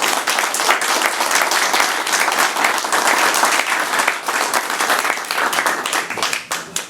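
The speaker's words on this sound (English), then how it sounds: "round of applause for Alex." An indoor audience at a tech meetup gives a dense, sustained round of applause after a talk, many hands clapping loudly and evenly for several seconds before thinning out at the end.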